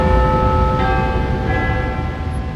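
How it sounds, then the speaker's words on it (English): Big Ben's great clock bell in the tower rings loudly with a sustained, shimmering metallic resonance and a long decaying hum, heard alone without voices. "That was the sound of Big Ben telling us the time"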